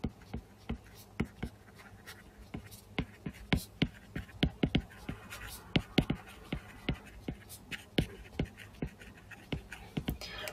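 Rapid rhythmic strokes of writing on a board, a steady run of short scratchy taps, close and clear, with someone speaking softly at times beneath them.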